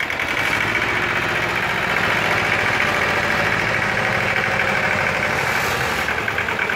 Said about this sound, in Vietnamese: Đây máy đang chạy rồi bà con.